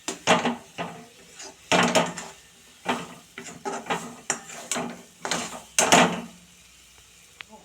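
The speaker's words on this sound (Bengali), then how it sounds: "এরকমভাবে কড়াতে তেল দিয়ে এটা একটু নেড়ে নিচ্ছি" A spoon scrapes and clatters repeatedly against a wok (kadai) as food is stirred in oil, loud close knocks coming in irregular bursts.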